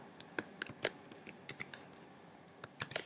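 Sparse, quiet keystrokes tapping out an exponential regression command on a keyboard or calculator: a few irregular short clicks spread across a few seconds, with faint room noise between them.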